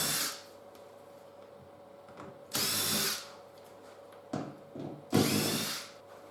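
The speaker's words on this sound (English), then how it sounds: "take these few fixing screws out" Power drill backing fixing screws out during a custom pickup truck build, three separate loud bursts of whirring separated by quiet pauses, with a short lighter buzz between the second and third.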